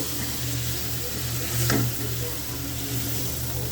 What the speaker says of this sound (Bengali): হলুদের গুঁড়া মরিচের দিয়ে মশলাটা ভালো করে কষিয়ে দিব